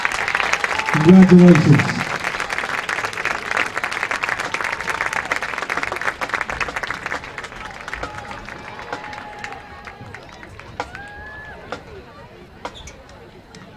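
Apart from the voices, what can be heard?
crowd applause at high school football game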